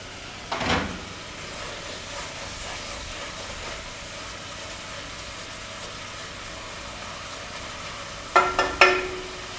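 A pan of eggplant pizza topping sizzles with a steady hiss as it is stirred, with a scrape near the start and a few louder clattering stirs close by near the end, with no talk.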